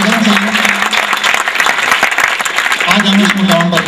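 An audience at a school silver jubilee function applauds the teachers, a dense sustained burst of clapping from many hands, loud and close, with a voice faintly audible beneath it.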